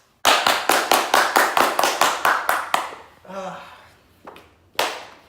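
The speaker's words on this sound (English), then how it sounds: "Everyone give her a round of applause" Round of applause for a guest on a talk show, about a dozen sharp, evenly spaced hand claps from a single close source, then a voiced sound and two more isolated claps.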